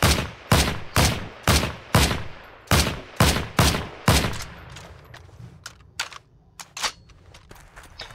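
Rifle gunfire in the World War II shooter game Heroes & Generals: about nine loud, evenly spaced shots with echoing tails, then quieter mechanical clicks and scattered distant pops.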